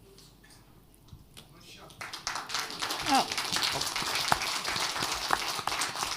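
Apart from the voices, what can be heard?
audience applause at a panel session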